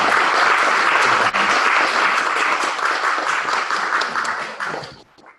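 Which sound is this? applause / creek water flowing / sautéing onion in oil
applause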